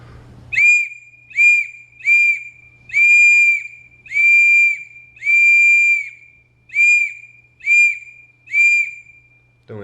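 A whistle, blown at medium strength, sounds an SOS signal: three short blasts, three longer blasts, then three short blasts again. The blasts are clear, close and evenly spaced against a quiet background.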